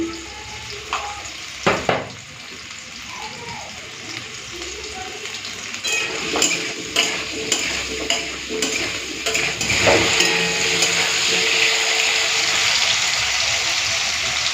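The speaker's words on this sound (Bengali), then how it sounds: "এদিকে আলু ভাজাটা হতে থাকুক" Potatoes fry in mustard oil with turmeric and salt in a home kitchen pan, a steady loud sizzle throughout with a few sharp clinks of a utensil stirring near the start and middle.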